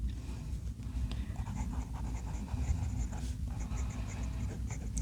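Fountain pen nib, a Montegrappa Happy Skulls with a medium wet-writing nib, scratching steadily across paper with continuous close scraping strokes and no talk.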